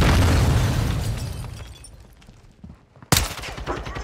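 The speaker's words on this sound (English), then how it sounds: "I'm launching claymore." A claymore explosion and gunfire in a shooter video game: a heavy rumbling blast that fades out, then a sudden sharp crack followed by continued rattling shots.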